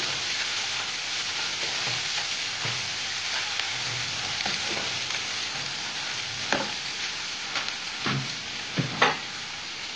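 Bombay duck fish fries with chopped garlic in a pan, a loud steady sizzle close by, broken by a few scraping stirs and clinks near the end.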